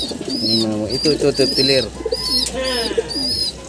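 Pigeons cooing in a loft, repeated soft rolling coos close by, with someone talking over and between them.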